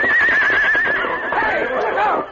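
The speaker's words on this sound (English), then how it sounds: "The intelligent stallion suddenly sprang forward, right into the grouped horses, rearing and kicking." A stallion neighs loudly and close, a long shrill whinny that wavers and trails off as the horse rears among a group of horses.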